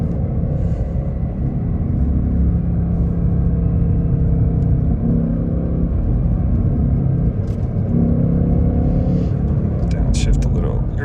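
Engine of a 2024 Ford Mustang GT with manual gearbox, Performance Pack and active exhaust, driving down a narrow wooded mountain road. It gives a steady, loud low rumble whose pitch shifts with the gears, and someone talks over it.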